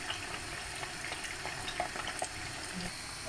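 Potatoes fry in oil with a quiet, steady sizzle and scattered small pops, the hiss even and continuous with no one talking.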